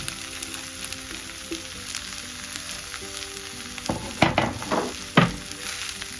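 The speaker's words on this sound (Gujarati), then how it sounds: "બટેટા, ગાજર ને કોબી તપેલા આમાં કડાઈમાં મૂકી દેવાનું." Potatoes, carrots and cabbage sauté in a wok with a constant soft sizzle, broken near the end by several louder scraping stirs.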